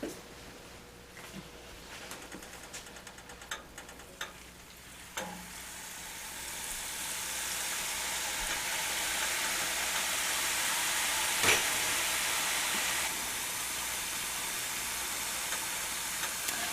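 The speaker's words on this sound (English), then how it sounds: "So I'm going to fry the next batch of Pokkodam." Ribbon pakoda (pokkodam) dough frying in hot oil, with a few faint clicks early on, then a loud, continuous close sizzle and bubbling hiss that swells and holds steady.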